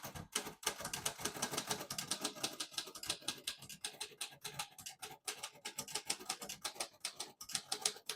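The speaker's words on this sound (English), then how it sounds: "Beautiful typing machine." Rapid typing on a 1937 Royal O Model vintage portable typewriter, crisp close key strikes clattering in a steady continuous rhythm, with no voices.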